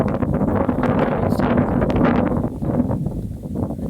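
Strong gusting wind before a storm in a village buffets the microphone with a loud, steady roar that lasts the whole stretch, with no voices.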